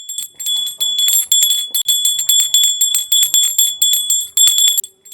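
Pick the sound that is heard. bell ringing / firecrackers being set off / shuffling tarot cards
bell ringing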